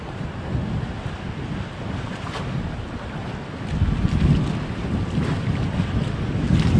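Strong cyclone wind on the Kamchatka coast roars steadily into the microphone, buffeting it loudly and growing heavier halfway through, with no voices.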